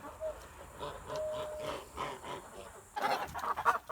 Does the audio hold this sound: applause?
no